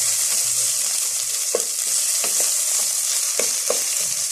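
Rice for Egyptian koshari fries in a pan with a loud, continuous close-up sizzle, broken by several sharp scraping clicks as a spoon stirs it, and no voices.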